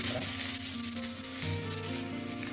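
Sliced onions sizzle steadily in a little oil in a kadai, a continuous close hiss with faint stirring clinks and low rumbling underneath, no voices.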